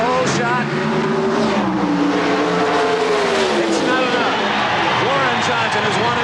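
Drag racing cars launch side by side down the strip at the 1991 NHRA Gatornationals, their engines roaring loud and continuous with rising, sweeping pitch as they accelerate, under an excited announcer's commentary.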